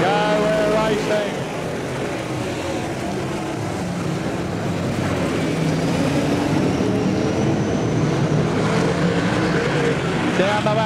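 Super sedan race cars roar around a dirt speedway oval in an A-main feature, engines blaring loud and continuous throughout, with commentary heard over the racing noise.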